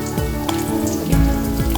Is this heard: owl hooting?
no